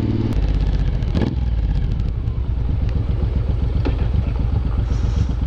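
A Suzuki M109R motorcycle engine rumbles close and loud while riding, with a steady lumpy pulsing beat and occasional clatter, and no talk.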